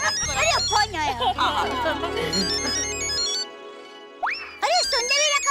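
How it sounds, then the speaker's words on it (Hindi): A telephone ringtone plays in a Hindi family sitcom scene. It is a melodic electronic tune over a low steady hum, and voices talk and react over and around it. "अरे फोन आया।"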